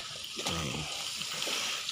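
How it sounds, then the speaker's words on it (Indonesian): Steady rush of water falling from a 1.5-metre glass waterfall onto a shower tray into a pond, a constant close splashing wash with a few brief low knocks, no talk. "Biar tidak bergelombang ketika air ada di baki shower ini ya, biar terjunnya rata."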